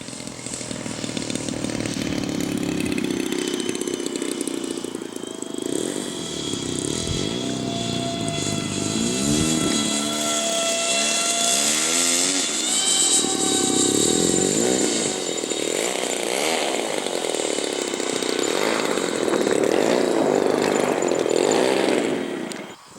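A radio-controlled CRJ-200 model jet makes a flying pass, its high-pitched engine whine loud and sustained, rising and falling in pitch as it sweeps past overhead.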